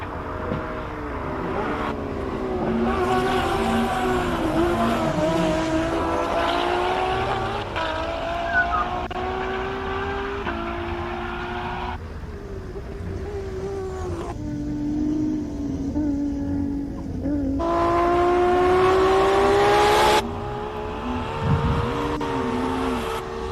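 A race car climbs the Simola Hillclimb course, its engine screaming through repeated gear changes, revs rising and dropping in sharp steps, loud and sustained with the pitch climbing toward the end.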